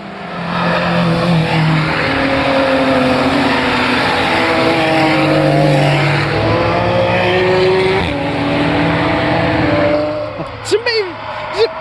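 Race cars roar past at the Nürburgring racetrack, a loud sustained engine wash that swells and fades as cars pass, with a person talking over it and a brief chirp near the end.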